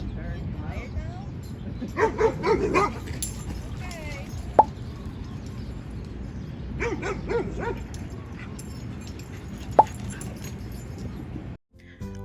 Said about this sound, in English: I honestly could watch our dogs play all day long.